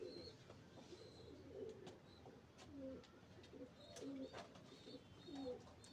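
Pigeons coo repeatedly in soft, low rolling calls, close by, over a quiet background with faint chirps.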